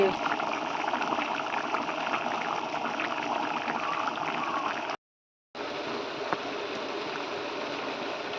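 Pea sundal masala simmers and reduces in a pan with a soft, continuous bubbling hiss, fairly faint and steady, broken by a short silent gap midway.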